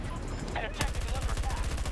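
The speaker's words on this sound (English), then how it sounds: "That motherfucker gunned me down." Rapid automatic gunfire rattles in a video game, a quick burst followed by a sustained, evenly spaced string of loud shots, with some game noise underneath.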